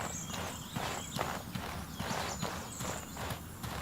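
Creature footsteps in the video game Outward, a run of heavy, hoof-like clip-clop steps in a steady, uneven rhythm, faint and a little distant, with no talk over them.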